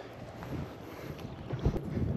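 Gusty wind buffets the microphone outdoors on a windy point while bass fishing, rumbling low and rising in a few stronger blasts near open water.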